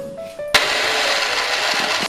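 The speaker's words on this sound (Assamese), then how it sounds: "বাদাম পিচি ল'ম এতিয়া" A kitchen mixer grinder grinds peanuts for an eggless vegan curry, starting abruptly after a brief quiet lead-in and then whirring loud and steady at close range until the clip ends.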